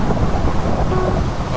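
Steady, loud rain hiss with a low rolling rumble of thunder from a weather effect in the video game skybounds, continuous for the whole moment with no talking.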